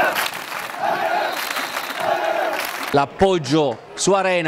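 A football stadium crowd at an Italian Serie D match applauds a player, a broad sustained clatter of clapping and cheering for about three seconds before a commentator's voice takes over.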